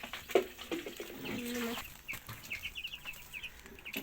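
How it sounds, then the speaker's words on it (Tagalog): Small chicks on a farm peep in quick, high chirps through the second half, with a few clucks and bumps from poultry earlier, fairly faint in an outdoor setting. "Yan, ang aming sisiw."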